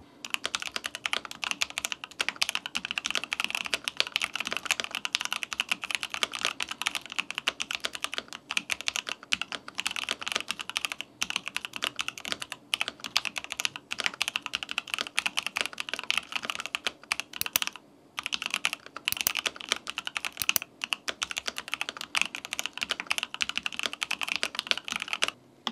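A Corsair K70 CORE TKL keyboard is typed on quickly and continuously, its dense rapid keystroke clatter running close and loud, with only a couple of brief pauses near the end.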